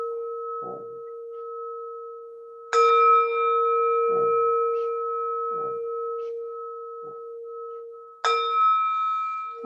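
Gong struck during a spiritual initiation ceremony, with a few deep, long-ringing strikes sustaining steady tones between hits, plus softer thuds; no talking.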